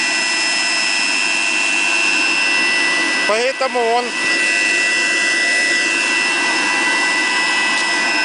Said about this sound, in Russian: Это вентилятор военный, поэтому он с таким высокооборотистым двигателем.